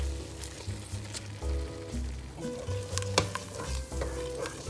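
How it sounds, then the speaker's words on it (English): Two kinds of cheddar melting together in a hot pan while being stirred, a steady sizzle with repeated scraping strokes and occasional utensil clicks, close and continuous. "Keep mixing it so that the consistency remains the same throughout."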